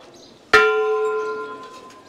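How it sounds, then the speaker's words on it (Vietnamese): A single close, loud strike of a temple bell at a temple in Nepal, its bright metallic tone ringing on and slowly fading. "Mình sẽ thử lay chuông ha."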